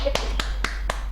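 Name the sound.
hand clapping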